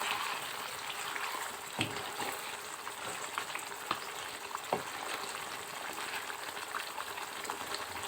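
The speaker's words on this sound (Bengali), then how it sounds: "ভালো করে চিকেনটাকে নাড়িয়ে নিব" Desi chicken fries in a pan with a steady sizzle and bubble, while a utensil stirs the meat and gives a few distinct scraping knocks.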